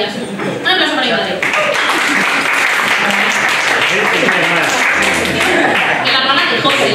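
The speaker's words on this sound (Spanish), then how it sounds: "Un aplauso para mi madre." An audience applauds at a concert in a café in Amorebieta, dense steady clapping that fills the room from start to finish, with voices talking over it.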